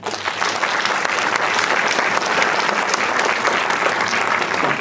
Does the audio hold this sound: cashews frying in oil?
no